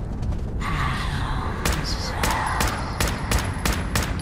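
Gunfire in Fallout 4's Far Harbor DLC cracks out in repeated sharp bursts over a steady rumbling game background.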